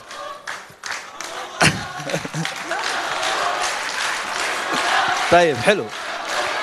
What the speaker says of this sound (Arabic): حلو تشجيع حلو